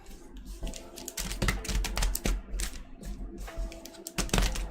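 Booster packs of Pokémon trading cards are shuffled by hand up close, a quick run of crisp clicking and slapping bursts with short pauses between them.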